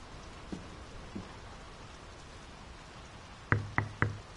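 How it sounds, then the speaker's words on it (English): Steady rain patters in the video game Draugen as a soft, even hiss, broken by a couple of faint taps early on and then three sharp, close knocks near the end. "The rain's picking up."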